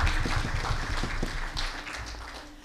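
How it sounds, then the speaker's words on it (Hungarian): Applause from an audience at a folk heritage association's Advent gala, steady dense clapping that stays loud throughout and fades slightly toward the end. "Itt van a körünkben Nagy András Balázs, tapsoljuk meg őt is, mert sokat segít az együttes munkájában."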